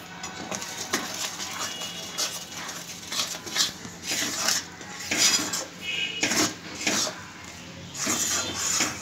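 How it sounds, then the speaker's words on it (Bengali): A utensil scrapes and clinks against a bowl while rice flour mixture is stirred, a steady run of close, fairly quiet metallic taps and scrapes with no talking. "এবারে একটু একটু করে আমি মিশাতে থাকবো আর"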